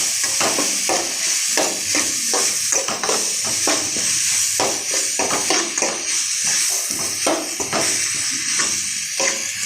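Onions and tomatoes with curry leaves sauté in a hot pan for a beans kurma, giving a steady loud sizzle with stirring scrapes throughout and no talking.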